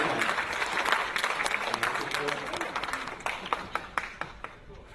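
Audience applause at an Urdu poetry recital (mushaira) in Dubai, a burst of many clapping hands that thins toward the end into scattered, separate claps.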